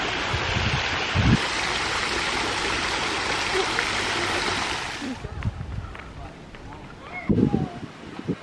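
At a family resort splash pad in Punta Cana, running water gives a dense, steady splashing rush that stops abruptly about two-thirds of the way through. Scattered splashes and faint voices follow.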